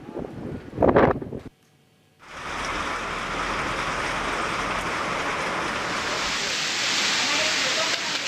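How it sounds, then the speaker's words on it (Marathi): A short burst of a voice, a moment of near silence, then a loud, steady roar of strong storm wind in Palghar, near Mumbai, that doesn't let up. "इतका जोरात वारा आहे की झाडांच्या फांद्या या अक्षरशः पडतायत वाऱ्यामुळे"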